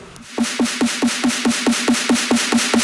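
A snare drum loop striking in a fast, even rhythm, each crisp hit repeating steadily and evenly in loudness, with no voices.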